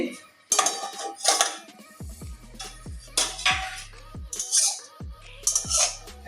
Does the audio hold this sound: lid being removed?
yes